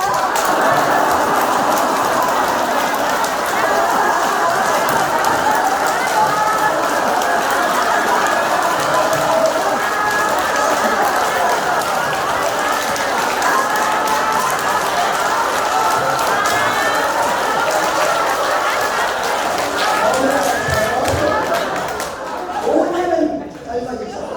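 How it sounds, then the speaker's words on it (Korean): A crowd at a church summer revival gathering claps hands in a long, dense, continuous wash of sound, with shouting, laughter and excited chatter mixed throughout before it suddenly drops away at the end. "박수를 치면서 하늘을 보면서"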